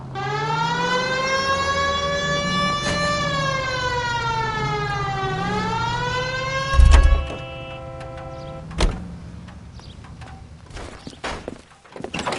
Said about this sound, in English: Hit the siren.